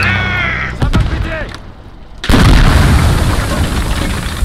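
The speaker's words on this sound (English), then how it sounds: "Big grenade." Grenade detonation in a WW1 video game battle, a sudden heavy boom that cuts in after a lull and rolls on as loud rumbling debris, preceded by brief in-game voices and scattered distant effects.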